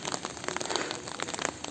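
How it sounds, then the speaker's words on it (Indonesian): Afternoon rain falling over countryside near rice fields and villages, a steady close patter of drops with scattered louder taps and crackles, no voices. "Jadi kebetulan di sore hari ini hujan."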